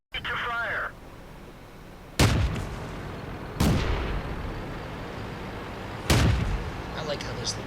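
Heavy cannon shots in a tank video game: three loud booming blasts with long rumbling tails, spaced a couple of seconds apart, following a short electronic tone at the start.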